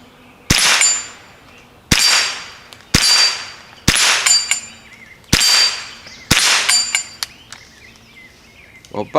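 An ATI GSG16 rifle fires 45-grain low-velocity ammunition, six sharp cracking shots in a fairly steady rhythm about a second apart, each loud and ringing briefly, with small clinks after.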